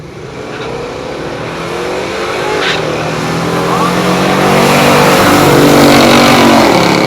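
A 1971 Buick GS 455 Stage 1 muscle car, a low-compression pure stock drag racer, accelerates hard down the strip, its engine roar building steadily in loudness under faint background commentary.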